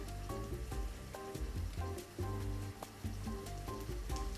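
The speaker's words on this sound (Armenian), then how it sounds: "Թող տապակվի" Garlic frying in a pan while a shrimp and tomato salad is prepared, giving a steady crackling sizzle with rhythmic music playing along underneath.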